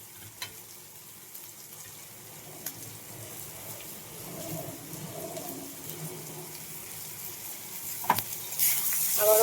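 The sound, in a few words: grated ginger and garlic sizzling as they fry in a pan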